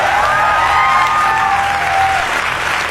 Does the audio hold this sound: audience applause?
yes